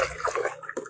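Liquid CMS fertilizer is poured over rice plants growing in polybags, giving a brief soft splash and trickle of water, faint and close.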